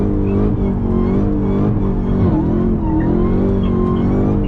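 A car engine revs hard and steadily while spinning donuts, a loud, continuous roar with uneven pitch swings and tire-skid overtones, close to the microphone throughout.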